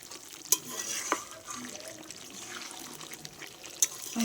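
Mutton and garlic sautéing in a pan: soft, quiet sizzling with scraping stirs and a few sharp clinks of a spoon against the pan.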